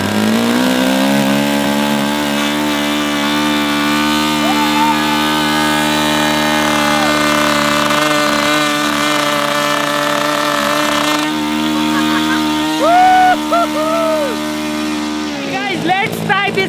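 A tiny 1.5 cc model car engine, billed as the world's smallest, runs close by with a loud, continuous buzzing whine that briefly wavers in pitch and sputters near the end.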